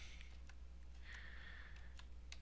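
Keys clacking on a computer keyboard while a filename is entered, a few light scattered taps with short gaps between them, faint and close over a quiet steady hum.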